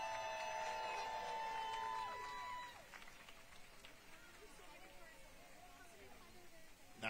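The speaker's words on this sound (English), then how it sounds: "Let's give them another round of applause." Audience applause and cheering at an outdoor city Christmas tree lighting, rising as the music fades and then holding as a steady, broad crowd roar with scattered voices.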